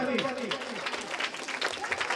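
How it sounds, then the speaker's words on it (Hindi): Audience applause following a Hindi song performance, steady clapping throughout at moderate volume, with a voice and some musical tones briefly audible at the start. "बहुत सुंदर, एक बार जोरदार ताली"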